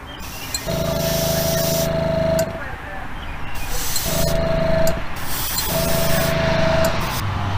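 An aerosol can sprays another coat of paint onto a custom Hot Wheels Bone Shaker toy car in three close, loud hissing bursts, one long and two shorter, with brief pauses between them.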